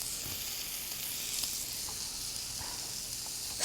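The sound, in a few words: zucchini and meat sautéing and sizzling in a pan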